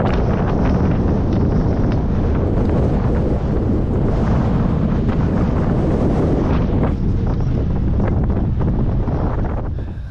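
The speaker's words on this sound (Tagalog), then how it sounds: "Sarap, lakas ng hangin." Strong wind roars and buffets the microphone continuously, loud and rumbling throughout with no other clear sounds.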